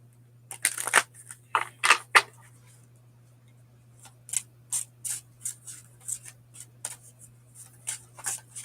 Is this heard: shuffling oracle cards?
yes